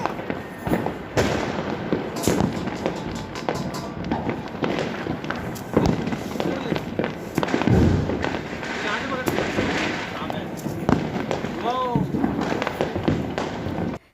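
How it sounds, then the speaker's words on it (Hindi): Diwali firecrackers and fireworks bursting during a family celebration, a dense run of sharp cracks and thumps with louder bangs scattered throughout, while voices talk and call out nearby and whistling rockets rise near the end. "तो थोड़े बहुत पटाखे छुटाए"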